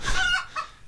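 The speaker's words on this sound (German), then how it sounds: "Neues Huhn. Hallo, neues Huhn." A chicken in the video game Minetest gives a short burst of clucking, close and fairly loud, over about a second with no talk.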